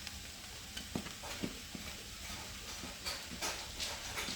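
Cabbage and onion frying in sesame oil for a chicken and cabbage stir fry, a soft continuous sizzle with occasional stirring clatters, close and moderate.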